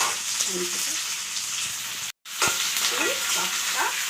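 Capsicum and onion stir-frying in a pan for street-style noodles, a steady broadband sizzle with scraping stirs, briefly cut by a short silent gap midway, with faint voice-like tones in the background.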